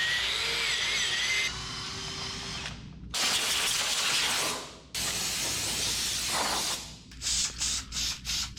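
Spray gun coating a part in a paint booth, loud hissing bursts of several seconds each, then a series of short, quick sprays near the end.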